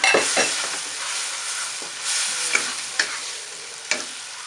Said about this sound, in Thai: ใส่กุ้งลงไปเลยจ้ะ